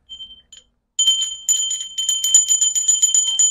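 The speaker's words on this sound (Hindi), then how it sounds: "ये है घंटी" A brass puja bell rings in short metallic strikes, two brief tinkles first, then a steady run of bright repeated rings that sustain loudly and close up with no talking.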